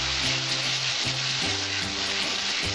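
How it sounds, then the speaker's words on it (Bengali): Water goes into a sizzling prawn masala curry in the pan, giving a loud, continuous close-up hiss and bubbling with light stirring and no voices. "এবার আমি 1/2 কাপের মতো জল দিয়ে দিচ্ছি।"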